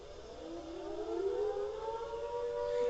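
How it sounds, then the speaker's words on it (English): A Carter civil defence warning siren at a fire station in Wellington, New Zealand, wails steadily, its tone slowly rising and growing louder, heard alone at a moderate distance. "It's the classic Carter sirens that we have here."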